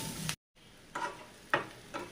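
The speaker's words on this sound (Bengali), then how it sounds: "আমি এবার পুঁটি মাছ ভাজাগুলো দিয়ে দিলাম, দিয়ে এইভাবে নাড়াচাড়া করে মিশিয়ে নিয়ে" Fried puti fish gets stirred into fried onions in a pan, making a low sizzle broken by scraping stirs, with a brief silent gap and no talking.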